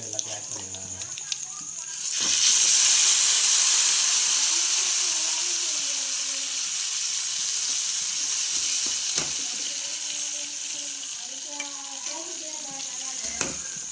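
Crabs caught from a paddy field hit a hot pan with ginger, garlic and masala, bursting into a loud steady sizzle and hiss that eases slightly and carries on, with a voice speaking faintly underneath.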